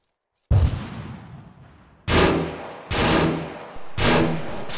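Four loud, close gunshots fired at an enemy in Arma 3 ring out with long decaying echoes, the first single shot followed by three more spaced about a second apart, with no talking.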